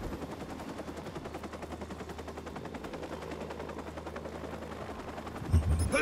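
Rapid automatic gunfire in the Watch Dogs video game on PC, a steady loud stream of shots that runs the whole stretch and swells near the end with heavier impacts.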